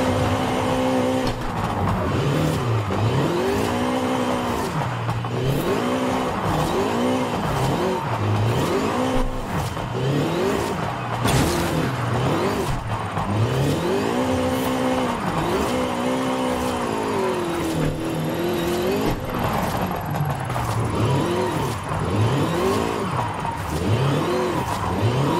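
A drift car's engine revs up and down in repeated surges while descending a downhill course, with loud rising and falling engine tone and occasional tire squeal throughout, no talking.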